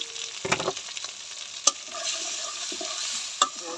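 Ground coriander and chili powder fry in oil for a rohu fish curry, giving a steady soft sizzle close by, broken by a few sharp clinks and scrapes as the spoon stirs the pan.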